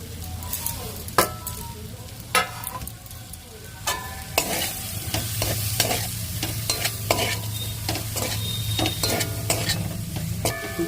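Dried fish curry with coriander leaves fries in a pan under a constant low sizzle, while a spoon scrapes and clanks against the pan in irregular, sharp strokes throughout, close up with no talk.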